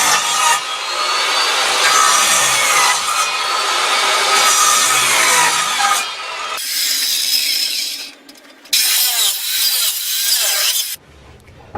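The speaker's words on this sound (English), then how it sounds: "I built this type of device to remove planks of wood from a pallet" Pallet wood planks are pried off with a homemade device, making a loud, close stretch of creaking, scraping wood strain that breaks off, then two shorter bursts of splintering separated by pauses.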